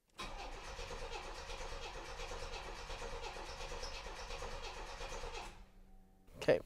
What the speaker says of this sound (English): let's see if the car will start